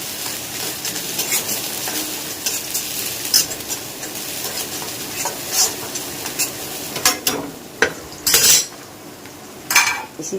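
Onion and vegetables stir-fried in a pan, a steady sizzle broken by sharp scraping and clinking of a utensil against the metal, with louder stirring bursts toward the end.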